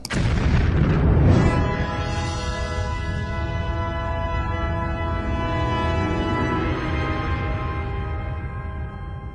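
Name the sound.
bomb explosion sound effect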